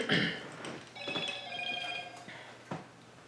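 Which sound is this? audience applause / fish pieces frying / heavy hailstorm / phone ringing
phone ringing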